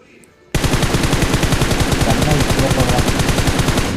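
After a brief quiet moment, sustained rapid automatic gunfire erupts and continues loudly and steadily without pause in a BGMI match.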